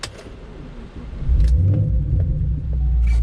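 A Camaro with a massive oil leak rumbles at low speed while being parked, its engine a deep, steady drone that swells and stays loud, with no one talking.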